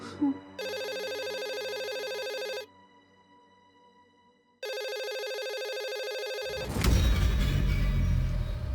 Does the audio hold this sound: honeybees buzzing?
no